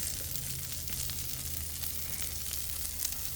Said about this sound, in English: we are just going to throw a little bit of oil down for our vegetables